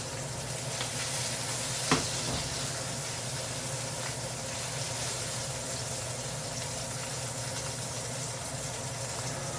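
Swordfish frying in oil in a pan gives a steady, close sizzling hiss that carries on without a break, with one brief clatter near the start and no talk.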